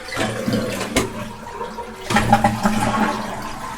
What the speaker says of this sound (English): And then we need to flush to remove the water.